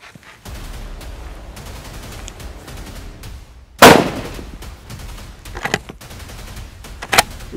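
A Beretta BRX1 rifle is fired on an outdoor range at a 100-meter target, with one sharp, loud report standing out and a couple of fainter, shorter bangs following over steady background noise.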